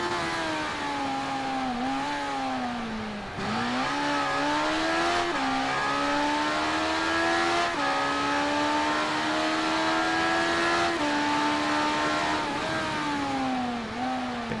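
A racing motorcycle engine in RIDE 3 holds a loud, steady high whine, dipping briefly at gear changes and climbing again as it accelerates through corners, with no voices.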